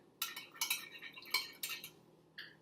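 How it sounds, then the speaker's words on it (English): A spoon stirring a salt-water solution in a container: a quiet series of sharp clinks and scrapes against the sides, about five bright strikes in an irregular rhythm, close and faint. "So I'm just gonna stir it like that."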